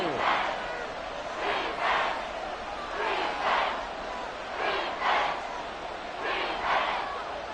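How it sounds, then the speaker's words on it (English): A big stadium crowd at an NFL football game roars in repeated rising surges, loud, dense and continuous, with rhythmic chanting swells. "This crowd doing all they can"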